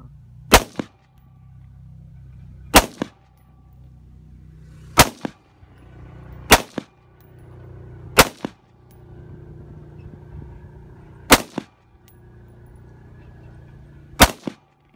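Gunshots fired in an outdoor South Texas shootout: seven loud, sharp single shots come at irregular intervals of about two seconds, each standing out clearly over a quiet background hum.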